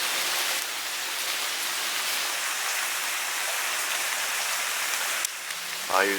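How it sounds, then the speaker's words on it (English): Steady hurricane rain pours outdoors in Houston during Hurricane Hanna, a dense even hiss of drops on surfaces that continues throughout, with a brief shift near the end. "Still raining down here."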